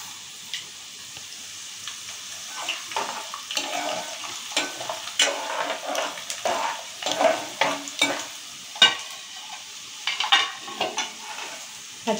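Chana dal, urad dal and mustard seeds fry in hot oil for tamarind pulihora, crackling under repeated scraping stir strokes of a spoon against the pan, loud and close.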